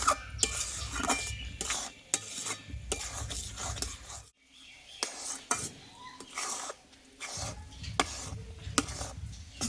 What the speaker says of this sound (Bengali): সুজিটা কিন্তু আমি হয়ে এসছে তবু আমি কিছুক্ষণ আরও নাড়াচাড়া করে নেব